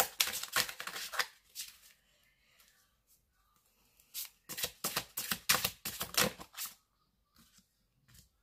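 Tarot cards being shuffled and drawn, with bursts of crisp riffling and slapping card sounds in two main clusters separated by a quiet pause, close and fairly soft.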